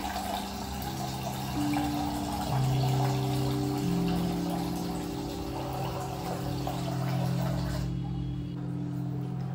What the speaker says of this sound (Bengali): ডালের জলটা ফিল্টারের জলটাই ইউজ করি ডালে